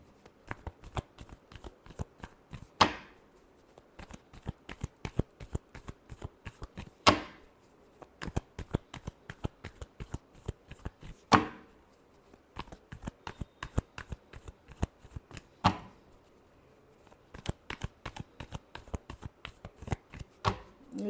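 Tarot cards shuffled by hand in a steady run of crisp riffling flicks, close and fairly quiet, with a few sharper bursts every few seconds as the deck is bridged and squared, and no talking.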